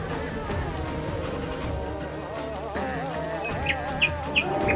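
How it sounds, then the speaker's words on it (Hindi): Birds chirp and tweet on Umananda, a small river island temple in the Brahmaputra at Guwahati, Assam, with a few sharp calls rising clearly near the end over a steady outdoor background. "यहाँ का प्राकृतिक वातावरण, पक्षियों की आवाज़ जो मन में एक अलग ही एहसास दिलाते हैं।"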